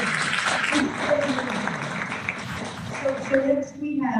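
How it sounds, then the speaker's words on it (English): Moderate audience applause at a school board of education meeting, continuous clapping mixed with voices and some tonal speech-like sounds over about four seconds. "A round of applause."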